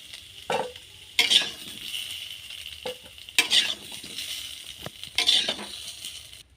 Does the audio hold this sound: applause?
no